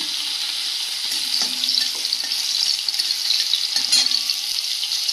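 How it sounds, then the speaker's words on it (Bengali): Dry red chillies fry in hot oil in a kadai, a steady close hiss of sizzling with a few light clicks of stirring and no talk. "তেলটা গরম হয়ে গেছে দিয়ে দেবো শুকনো লঙ্কা"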